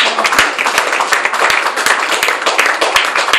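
A church congregation applauds at a Sunday service, a dense, steady wash of many hands clapping with sharp individual claps standing out, loud and close throughout.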